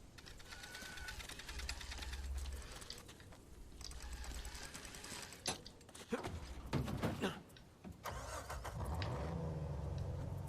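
A car engine revving and driving in the video game Uncharted 4, running as a fluctuating mechanical drone with clunks, bumps and surges midway, close and fairly loud throughout.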